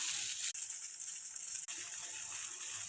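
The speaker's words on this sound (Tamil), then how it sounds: "தண்ணி இப்போ கொதிக்குது" Salted water with ajwain bubbles and hisses in a pan, a soft, steady simmering sound with two brief dips, heard alone without voices.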